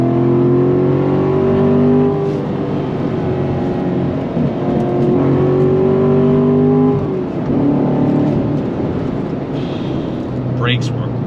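A manual 2019-era Corvette C7 Stingray Z51 Premiere Edition with a 7-speed gearbox accelerating on throttle, its engine drone climbing steadily in pitch through the gears, loud and close from inside the cabin, with someone talking over it.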